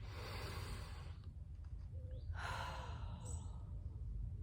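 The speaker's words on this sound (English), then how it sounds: "hand on heart, take a deep breath" A single slow, deep breath drawn in and released during a calm, quiet moment, faint and soft against a low background hiss.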